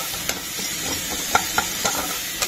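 Spices, including ground coriander, stirred slowly through tomato and green chilli in a frying pan, giving a soft continuous sizzle broken by a few scraping knocks of the spoon.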